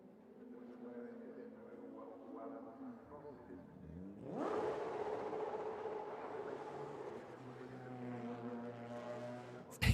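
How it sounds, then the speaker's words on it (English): A Porsche 997 Cup race car engine on a street circuit, building from a steady drone to a loud, sustained high-revving wail near redline partway through, holding strong to the end. "you hear him redlining it where he knows there's spectators"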